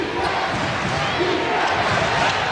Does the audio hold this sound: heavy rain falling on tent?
no